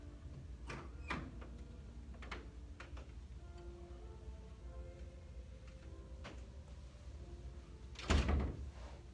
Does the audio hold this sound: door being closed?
yes